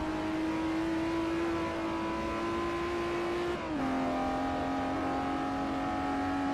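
Race car engine in the Forza Motorsport 4 driving game, a loud, steady high-pitched drone rising gradually under acceleration, then a brief dip at a gear change before it pulls on at a slightly lower pitch.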